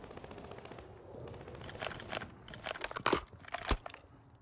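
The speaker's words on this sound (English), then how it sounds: "Quietest airstrike in the game." An airstrike in the video game Warzone: a fairly quiet, distant rattle of rapid impacts and crackling bursts that builds toward a few sharper, louder cracks near the end, with no talking.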